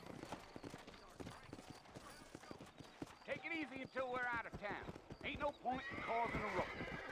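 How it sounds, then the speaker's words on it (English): A horse in the Red Dead Redemption video game, its hooves clip-clopping in a rhythmic gallop while it whinnies and neighs loudly, with a person talking over the game sounds. "Como é que faz o cavalo correr?"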